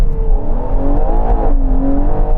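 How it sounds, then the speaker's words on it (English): A Ferrari Purosangue SUV's V12 engine revs loudly and close, a rising, wavering mechanical roar with a deep low rumble beneath, sustained for a couple of seconds without speech. "It's mad having this engine in an SUV."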